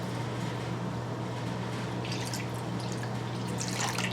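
Cold water pours steadily into a mixing bowl for a ciabatta poolish, a continuous close trickling wash over a low hum, with a brighter splashing stretch near the end.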